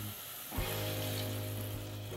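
Hot water poured onto chicken frying in a pressure cooker for two-person galinhada, a sudden loud hiss and sizzle that bursts in after a moment and holds steady, close and alone.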